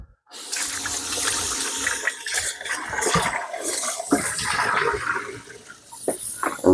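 Tap water pours steadily into a kitchen sink as raw chicken thighs, already treated with lemon juice and vinegar, are rinsed. The splashing gush is loud and close, with no voices.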